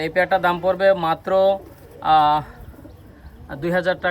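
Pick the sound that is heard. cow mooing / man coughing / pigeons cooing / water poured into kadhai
pigeons cooing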